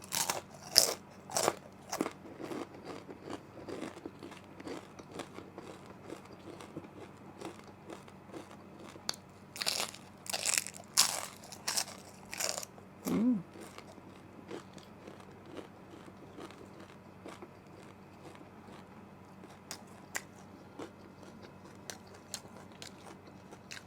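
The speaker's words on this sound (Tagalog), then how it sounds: "Unang kagat sa chicken skin." Crispy chicken skin crunches and crackles under repeated bites, each bite followed by loud chewing close to the mic. Bursts cluster early and mid-way and give way to quieter mastication, with no talking.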